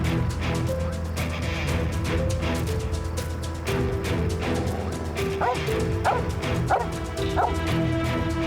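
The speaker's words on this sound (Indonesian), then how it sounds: "Kenapa anjing itu menggonggong lagi?" A dog barks and yips repeatedly in an indoor drama scene, loud bow-wow barks mixed with whimpers over a background of voices and ambient noise.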